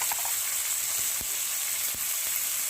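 Shrimp sizzling in hot oil with chopped onion and plenty of green chillies, a dense, steady frying hiss that runs the whole time, with a few faint stirring knocks and no voices.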